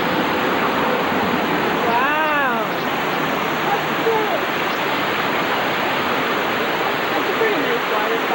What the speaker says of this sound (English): That's a pretty nice waterfall.